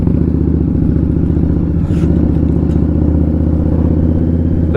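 Indian Scout Bobber motorcycle riding through a chaotic roundabout, its engine a loud steady throbbing rumble close to the microphone, with wind noise and no speech.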